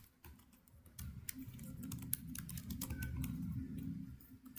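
Steady typing on a computer keyboard while entering a database privilege command, quick irregular key clicks running continuously at close range with no voices.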